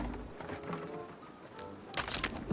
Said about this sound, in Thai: มีเสียงเท้าอยู่ตรงนี้ครับ